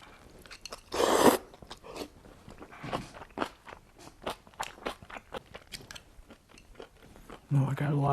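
Close-up crunching and wet chewing of a big mouthful of noodles with egg, beef and kimchi, in uneven bites and slurps with a louder crunch near the start; no talking.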